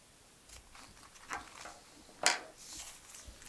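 A few scattered crisp snips and rustles of scissors working through stiff plastic, one sharper cut standing out midway, quiet surroundings.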